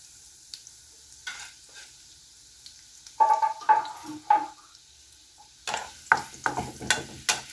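Garlic and onion hit hot cooking oil for chicken paksiw: a near-silent start, then from midway repeated bursts of crackling sizzle with stirring scrapes, growing busier toward the end. No one speaks.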